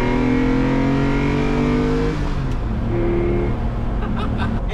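Lamborghini Diablo V12 engine revving past 3,000 RPM, a loud, steady sustained drone that shifts pitch partway through and holds near and constant throughout.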